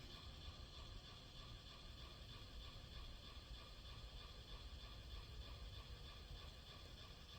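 Noisy slow motor of a Leslie speaker runs steadily, a very faint, continuous mechanical whir with a fine ratcheting, gear-like texture and no talk.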